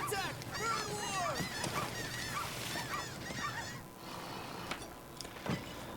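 Geese honk over and over in the video game Tony Hawk's Pro Skater 4, a loud, dense flock of squawking calls that thins out midway, with a voice talking over them.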